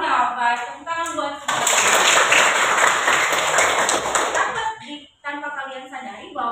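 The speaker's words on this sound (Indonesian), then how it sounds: "tepuk tangan buat" A classroom of students claps together, a burst of dense clapping in the middle, with a voice speaking before and after.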